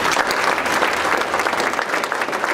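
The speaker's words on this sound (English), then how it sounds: "Let's give Tim a round of applause again" A gathered audience gives Tim a round of applause, brisk, dense clapping that holds steady and close for the whole brief stretch with no voices over it.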